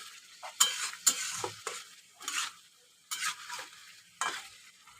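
Prawns with spice paste frying in a pan for a potato and prawn curry, stirred in short scraping strokes: about five or six brisk bursts of spatula scraping and sizzle, close and moderately loud, with brief pauses.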